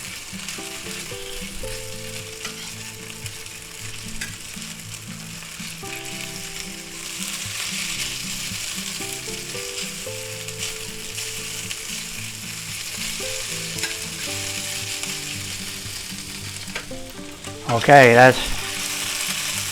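Pork for lo mein stir-frying in a pan, a loud continuous sizzle with stirring and scraping, a brief louder clatter near the end and a few spoken words.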